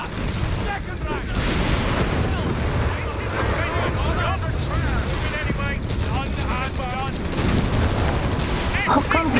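Rifle volleys in the Company of Heroes 3 strategy game ring out amid a constant roar of battle, with cracks and booms layered under overlapping voices and shouted commands throughout.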